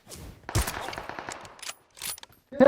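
Gunfire in a multiplayer video game shootout: a few quick bursts of automatic shots and single cracks, close and fairly loud, separated by short gaps.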